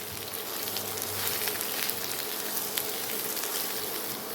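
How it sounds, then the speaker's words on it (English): Ridge gourd pieces, about three large gourds' worth, sizzle steadily in a hot pan as they are stirred continuously, a dense even crackle with no talk. "Toss them around and cook them, stirring continuously till they get a light color on them"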